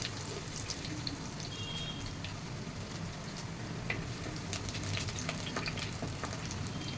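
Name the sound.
garlic and chopped shallots frying in oil after mustard seeds pop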